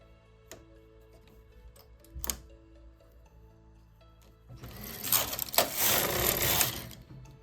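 A domestic knitting machine works across rows with scattered clicks and ticks at first, then a loud, rushing mechanical carriage sweep lasting a few seconds, close and alone.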